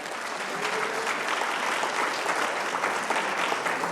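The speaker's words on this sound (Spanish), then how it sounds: "Denle un aplauso al Señor" A church congregation applauding for the Lord, a dense sustained roar of many hands clapping together at steady strength throughout, filling the room with no individual voices standing out.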